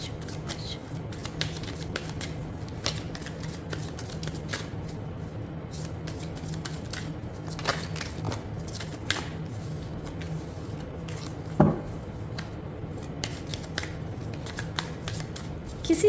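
Tarot cards are shuffled by hand close up, making soft repeated riffling and slapping sounds in an uneven rhythm over a faint steady hum, with no talk.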